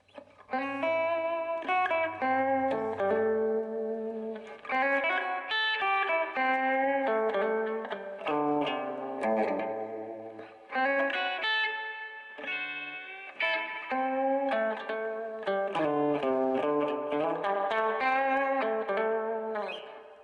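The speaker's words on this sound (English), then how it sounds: "we're going to start this out clean with a little bit of reverb. Okay, a lot of reverb." Electric guitar played clean through a Marshall amp with heavy reverb, on the neck pickup, strummed and picked chords ringing out in phrases with brief pauses, alone and up close.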